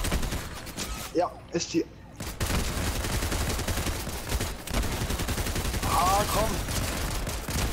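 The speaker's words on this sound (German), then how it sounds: "Oh, Achtung, Schüsse! Was ist denn das für eine Waffe? Ach, das ist die Explosionspump, oder?" Gunfire in the video game Fortnite, attributed to the Explosive pump shotgun: dense, continuous rattling bursts of shots almost throughout, briefly dropping out while someone speaks German over the action.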